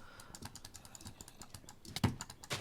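A mouse button clicks rapidly during a Minecraft fight with spiders, a quiet string of sharp, close taps with a couple of louder clicks near the end.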